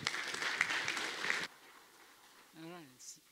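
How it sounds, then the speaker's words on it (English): Conference audience applause at a Postgres event, a dense crackle of clapping for about a second and a half that stops abruptly, followed by quiet room tone and a brief voice. "So I'm very fortunate to have a second round of applause"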